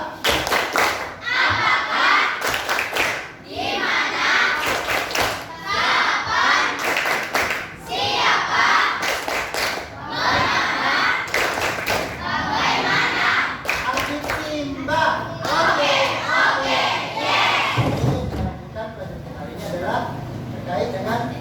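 Schoolchildren in a classroom perform a rhythmic clapping chant led by their teacher, loud repeated bursts of clapping and voices in steady patterned phrases, with children's chanting mixed throughout.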